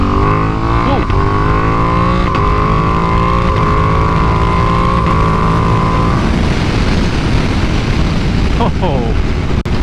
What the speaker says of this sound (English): I'm just trying to give y'all something with the exhaust sound